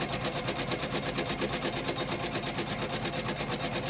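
A Janome MC500e embroidery machine stitching on a towel held in a magnetic hoop, running close by with a fast, even mechanical clatter of rapid needle strokes and a soft motor hum, with no talking.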